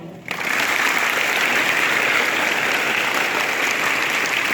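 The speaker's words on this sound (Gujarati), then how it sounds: "એ પર તાળી પાડો છે." Students in a Gujarati department classroom in Bhavnagar break into sustained applause after a brief quiet moment. The dense, even clapping fills the room and holds steady to the end.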